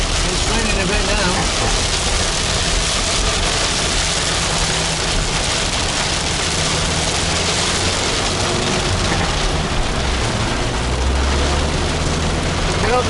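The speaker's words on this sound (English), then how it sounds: "It's raining a bit now." Light rain falls on a car driving into an Australian mining town, a steady hiss blended with low engine and road drone throughout, with people talking now and then.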